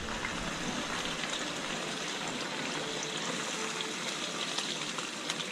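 Water is poured into a pot of chicken feet already splashed with vinegar, making a steady, even gush that runs unbroken at moderate loudness.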